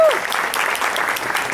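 Audience applause welcoming a guest at a Hindi poetry gathering (kavi sammelan), steady clapping from a crowd throughout, with a brief voice at the very start.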